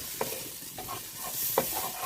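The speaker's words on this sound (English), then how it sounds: "So give that all a good stir." A spoon works through nasi goreng with tomato puree in a frying pan, giving soft scraping strokes and a couple of light clinks over a quiet, steady sizzle, all fairly faint and close.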